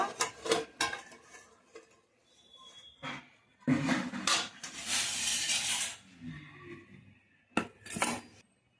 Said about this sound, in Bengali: চাপাটা খুলে নেব আমি এখন এটাকে নামিয়ে নেব